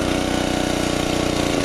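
A small Generac 750-watt portable generator engine runs steadily at a low idle, loud and close, with an even, continuous pulsing drone and no talk.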